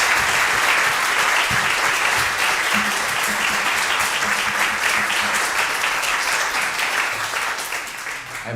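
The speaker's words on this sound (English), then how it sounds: "round of applause." A congregation at a church meeting breaks into a sustained, full round of applause, loud and steady for several seconds before thinning out near the end, with faint voices underneath.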